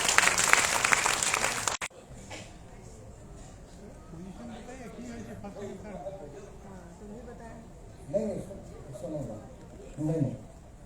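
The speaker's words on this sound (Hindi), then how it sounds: "जोरदार तालियों से स्वागत करें।" A burst of audience applause welcomes a speaker at a students' elocution contest, dense clapping that ends abruptly after about two seconds, followed by someone talking over a hall.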